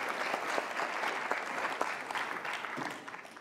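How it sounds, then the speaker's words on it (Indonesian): A crowd claps steadily, a dense patter of many hands applauding at an even level throughout, with no voices standing out. "Kita kasih tepuk tangan dong Pak Jose."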